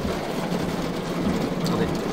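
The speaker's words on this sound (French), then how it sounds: "passage de la super cellule, il pleut à torrent" Torrential downpour from a passing supercell storm, a dense, loud, steady roar of rain on surfaces close by with no break.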